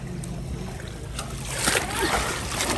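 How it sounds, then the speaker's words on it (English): Water splashing in a swimming pool as a child plays, irregular sloshes and splatters growing louder toward the end, with a faint voice in the background. "No more splashing"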